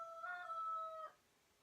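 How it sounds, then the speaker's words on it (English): One drawn-out rooster crow from chickens on a porch, tonal and fairly faint, holding steady for about a second before cutting off into quiet. "I had to shoo my chickens off the porch before I got started because they were really noisy."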